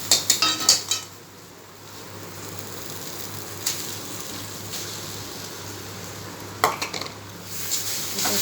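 Spoon scraping and stirring a thick paste of ground boiled soybean and potato in a sizzling pan, with metallic clinks in short clusters at the start and near the end over a quiet frying hiss.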